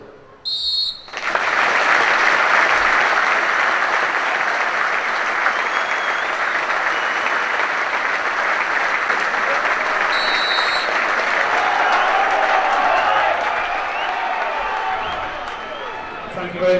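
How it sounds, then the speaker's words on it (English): A stadium crowd at a football match holds a minute's applause, steady and loud for the whole stretch, opened by a sharp referee's whistle and with a short whistle blast partway through. "We will all now also remember him with a minute's applause"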